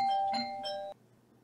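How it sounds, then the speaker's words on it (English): Doorbell chiming with a bright electronic ding-dong, several ringing tones lasting under a second before cutting off abruptly, fairly close. "ours said something when the doorbells rang"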